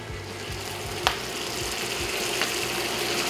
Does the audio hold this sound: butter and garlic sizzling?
yes